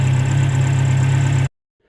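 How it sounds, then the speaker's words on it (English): A Renault 16 engine runs at a steady idle, close and loud with an even low throb, then cuts off abruptly into silence. "Right, we've got the Renault 16 running."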